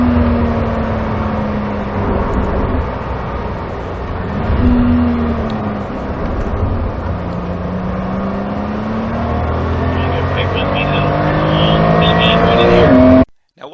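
Porsche 911 S (991.2) accelerating hard on a public road, engine note climbing steadily through several gear pulls with brief dips at the shifts, loud and close over road and wind noise.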